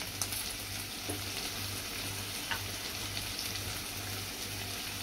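Egg bhurji mixture sautéing in a pan with a continuous low sizzle and occasional faint stirring scrapes, heard alone under a steady background hum.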